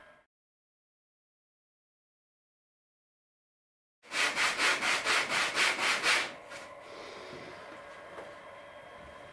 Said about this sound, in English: I'm going to plane this essentially into a piece of 50mm triangular stock